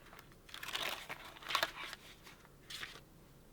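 A 12-inch sticker being handled while it goes down over a seam gives quiet plastic crinkling in a few short bursts, with the loudest rustle near the middle.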